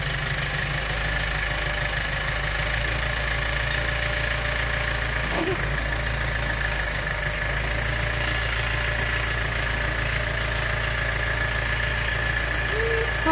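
A tractor engine runs steadily and close by in a small backyard garden, a constant low rumbling drone with a faint knocking texture that holds for the whole stretch, with no talk over it.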